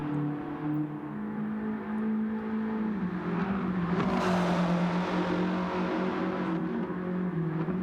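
A Volkswagen Golf GTI in Gran Turismo 7 holds a steady engine drone, revving and shifting as it is driven, with a brief surge of tyre and wind noise midway. It is loud and continuous, with no voices over it.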